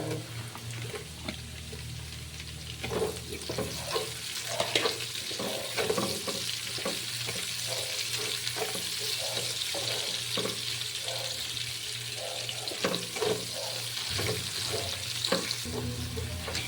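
White onion frying in a pan for a potato chicken mushroom dish, a steady sizzle with frequent spatula stirring and scraping, close and continuous throughout.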